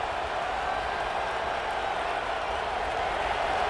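Steady roar of a stadium crowd at a College Football 26 video game matchup of Alabama Crimson Tide against Vanderbilt, a continuous even wash of cheering noise that holds at a constant level throughout with no talk.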